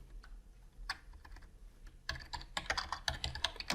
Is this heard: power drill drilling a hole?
no